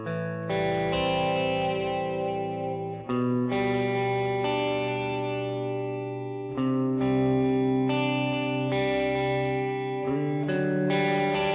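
Overdriven electric guitar plays sustained chords and ringing notes, each washing into echoing delay repeats and a roomy reverb tail.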